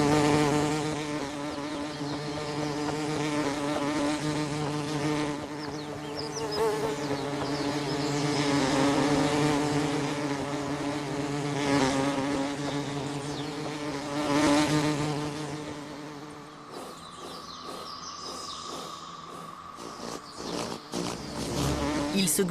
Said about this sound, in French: ils reculent devant les abeilles et les guêpes